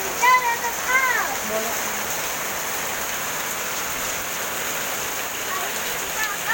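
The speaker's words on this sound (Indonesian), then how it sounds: "Hari ini kita akan main hujan-hujanan." Rain falls steadily outdoors, a dense even hiss of drops on surfaces that stays constant throughout, with a few brief voices and whistle-like tones near the start.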